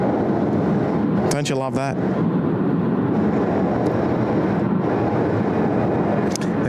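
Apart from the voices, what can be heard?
aircraft at Sydney Airport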